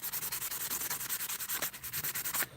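Sandpaper rubs back and forth over a surface in quick, regular strokes, a close, rasping scratch pulsing about eight times a second, steady and unbroken, with no voices.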